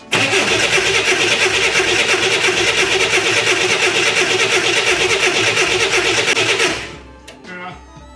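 A car left sitting for five years cranks and runs with a loud, steady mid-pitched engine roar for about seven seconds, then cuts off abruptly, leaving a brief quieter rumble behind.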